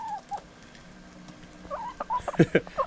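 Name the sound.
chickens squabbling over thrown food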